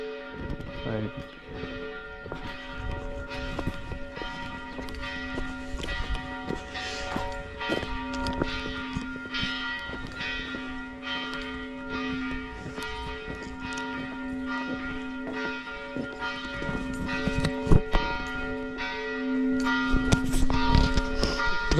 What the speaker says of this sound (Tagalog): May kampana na naman.